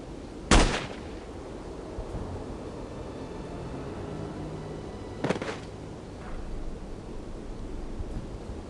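Two sharp gunshots in the spy video game No One Lives Forever, a loud close crack near the start and a slightly softer second shot about five seconds later, over a steady low background hiss.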